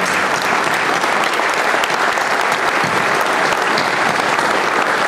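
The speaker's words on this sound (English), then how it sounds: "giving these guys a big round of applause for being the sponsors of the event" Sustained, dense applause from a large audience at a corporate partner forum, loud and steady throughout with no break, clapping for the event sponsors.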